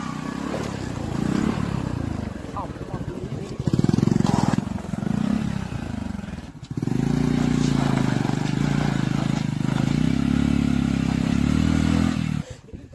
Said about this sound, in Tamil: அந்த பைக் நல்லாவே கீழே குழியில் மாட்டிக்கிச்சு.